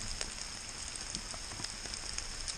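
Rain falling on the Appalachian Trail among droopy trillium flowers, a steady close patter with scattered drop taps and no voice.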